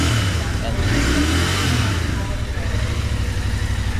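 A Royal Enfield Interceptor 650 ABS motorcycle engine warming up after a cold start, holding a steady, loud mid-range rumble close by with no rise or fall, while someone talks over it.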